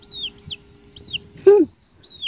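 Farmyard chickens and chicks are being fed. A hen gives one loud, close cluck, while thin high chirps repeat around it over a soft background of pecking and rustling.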